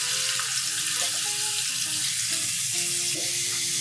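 Onions crackle and sizzle in a spoonful of hot oil, a steady close frying hiss that runs the whole time, with soft tonal sounds underneath.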